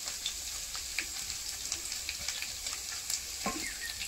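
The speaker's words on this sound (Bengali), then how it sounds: "মাঝখানটা ফাঁকা করব, অল্প একটু পাঁচ ফোড়ন দেবো" Panch phoron sizzles in hot oil in a cleared spot among frying potatoes and onions, a steady close crackle with small pops and faint stirring scrapes, no voices.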